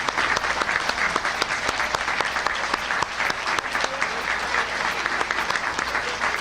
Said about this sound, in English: If everyone could please stand up and give them a round of applause,